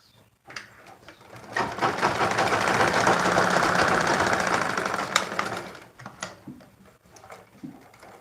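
Sewing machine hemming dress fabric for a double-layer ruffle dress, running in one steady mechanical whir for about four seconds, with light handling sounds before and after.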